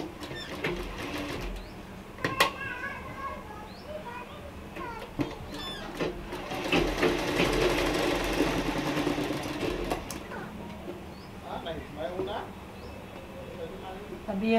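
A sewing machine stitches a Patiala salwar in bursts of rapid whirring, starting and stopping, while someone talks and children's voices play nearby.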